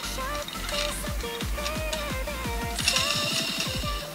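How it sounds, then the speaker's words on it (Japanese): A custom brushless motor with a helical rotor spins steadily, its whirring tone repeatedly sweeping as it runs, with a faint rubbing scrape mixed in, close and moderately loud. "なんかちょっと擦ってる音がするね。"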